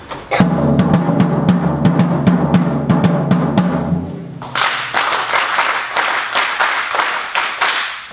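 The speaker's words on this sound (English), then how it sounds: "he's going to give these guys a different beat and they're going to clap" A pattern of sharp single claps over a low rhythmic backing is followed by a conference audience team clapping it back together, a denser crowd of hands repeating the beat in time.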